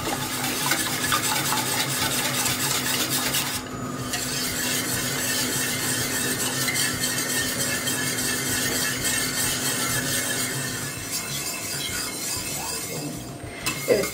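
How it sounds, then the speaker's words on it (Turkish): Supangle chocolate pudding mixture cooking over low heat while being stirred continuously, a dense steady scraping and bubbling wash throughout with brief dips, no talking. "Bu şekilde sürekli karıştırarak pişirmeye bırakıyorum."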